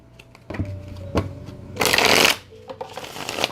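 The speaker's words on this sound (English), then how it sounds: "let me give this pile a shuffle" A pile of tarot cards is riffled and shuffled close up, with light taps and handling before one loud, dense burst of card flutter lasting about half a second, then softer handling afterward.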